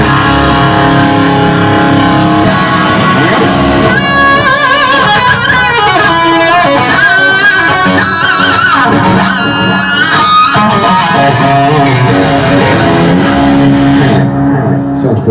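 A Chapman electric guitar with an alder body, Bare Knuckle pickup, Floyd Rose tremolo, coil tap and CTS pots, playing loud distorted riffs and lead lines with shifting notes and string bends.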